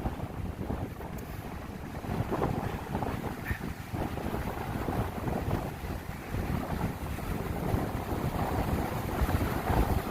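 Ocean waves roll onto a beach on a windy day, and gusts buffet the microphone throughout. The surf and wind roar stays steady and loud for about ten seconds, with no voices.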